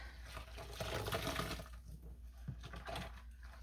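Hand-spun yarn squished around by hand in warm water, giving close, continuous sloshing and wet swishing that swells and eases, with brief splashy squelches.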